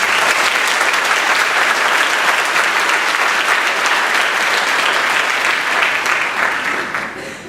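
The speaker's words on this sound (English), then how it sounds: "Please join me in giving a round of applause to our presenters." A large audience at a high school senior awards ceremony gives sustained applause, a dense, even roar of clapping hands that holds strong and fades slightly at the end.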